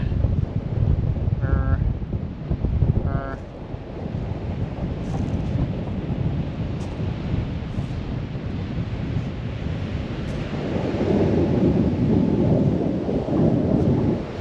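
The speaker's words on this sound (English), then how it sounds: "It's raining again." Steady rain with gusting wind, a continuous rumbling wash that swells louder near the end, with a couple of faint brief tones early on.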